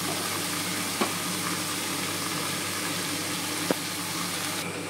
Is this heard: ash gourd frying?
yes